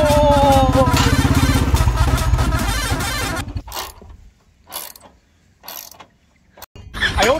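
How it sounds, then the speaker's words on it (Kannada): Metal clanks and ratcheting tool sounds ring out while the exhaust silencer is worked off a Royal Enfield Bullet motorcycle, loud mechanical grinding at first, then scattered knocks and scrapes with pauses. "ಫೈನಲ್ ಆಗಿ ಬಹಳಷ್ಟು ಗುದ್ದಾಡಿದ ಮ್ಯಾಗ ನಮ್ಮ ಸೈಲೆನ್ಸರ್ ಹೊರಗೆ ಬಂದಿತ್ರಿ."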